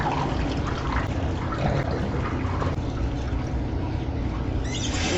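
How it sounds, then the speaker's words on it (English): Water from a basin of hand-washed clothes drains away in a steady, close rushing gurgle that runs without a break for about five seconds, with no voices. "Now we're gonna let the water drain out."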